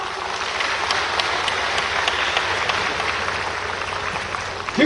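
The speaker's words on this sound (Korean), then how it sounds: "다시 한번 힘찬 박수를 부탁드리겠습니다" An audience applauds a union election candidate at an indoor campaign rally, with dense, steady clapping that continues evenly throughout and swells slightly at the very end.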